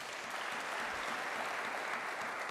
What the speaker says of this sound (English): A clap for him as he comes.